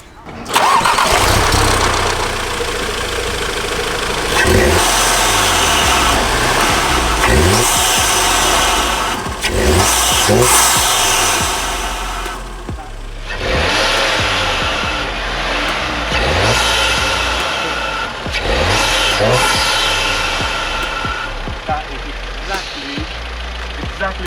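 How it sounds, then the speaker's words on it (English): An Audi TT engine fitted with a performance intake revs hard in repeated surges, with whooshing intake and turbo sounds rising and falling over a rumbling idle, loud and close. "The turbo noise is back."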